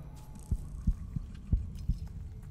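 A game heartbeat effect in The Thaumaturge sets a slow, steady, deep double thump that repeats about five times over a low background hum, with no voices.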